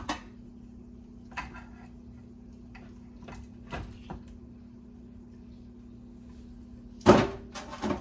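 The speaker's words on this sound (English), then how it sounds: "I'm just gonna put in the jelly roll pan that I have of bones in my roaster" A jelly roll pan of beef bones set into a roaster, with scattered metallic clinks and knocks and a louder clatter of metal near the end over a low steady hum.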